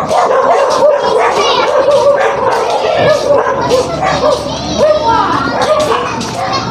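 Agitated dog barking repeatedly in quick bursts, loud and close, with some yips mixed in.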